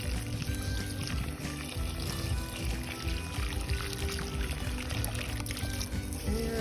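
Water from a garden hose runs steadily onto summer plants in hot Yuma weather, a continuous close splashing and trickling wash with no pauses.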